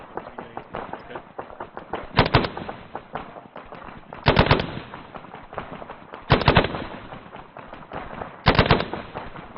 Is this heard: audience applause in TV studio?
no